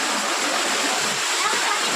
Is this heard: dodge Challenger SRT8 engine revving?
no